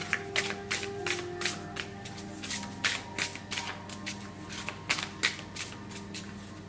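A deck of oracle cards is shuffled by hand for a reading, a rapid series of crisp riffling flicks and taps in uneven bursts, close and clear over a faint steady hum.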